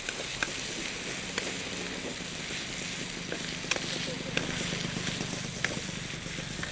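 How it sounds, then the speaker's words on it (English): An egg fries with noodles in a hot pan during Thai cooking, giving a steady close sizzle with occasional light scrapes and taps from stirring, continuous for several seconds, with no talking. "Just move the egg around, let it cook before you stir it through the rest of the noodles."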